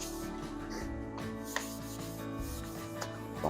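Hand sanding a wooden kit guitar gives soft, close rubbing strokes under a faint steady hum, with a few light taps, and no speech.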